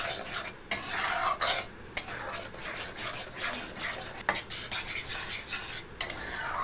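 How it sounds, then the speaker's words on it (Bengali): A spoon scrapes and stirs masala with tomato puree in a metal pan, giving rapid rasping strokes with brief pauses and a faint sizzle underneath, close and fairly loud. "দিয়ে আবার ভালো করে নেড়ে ছেড়ে আমি কষিয়ে নেবো যতক্ষণ না তেল রিলিজ হচ্ছে"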